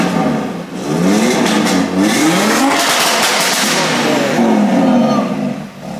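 An Audi RS3 engine, just started for the first time, is revved hard through a loud exhaust. It climbs and falls in several close, aggressive rises of pitch, sustained and loud throughout with no voices on top.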